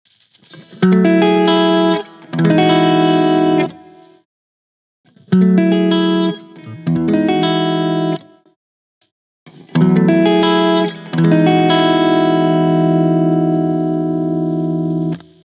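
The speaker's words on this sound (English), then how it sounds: "Now with the overdrive engaged, as a bit of a clean boost, it'll give you a little bit of twinkle and sparkle" Electric guitar with an overdrive pedal used as a clean boost plays three strummed phrases separated by short silences, the last chord ringing out long and bright.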